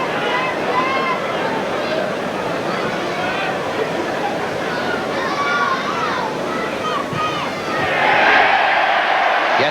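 Rugby league crowd at a Hull Kingston Rovers versus Leigh match roars with broad, sustained cheering after a try, a dense wall of voices that swells louder near the end.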